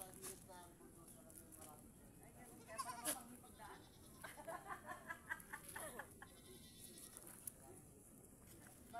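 A male goat bleats intermittently against a steady outdoor hum, the calls short and moderately loud, with people talking nearby.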